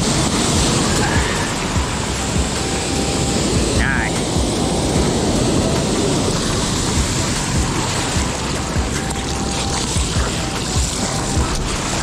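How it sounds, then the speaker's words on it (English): Ocean surf washes in a steady roar while someone paddles a stand-up paddleboard through small clean waves, with wind noise buffeting the microphone throughout. "These are some fun little waves, man."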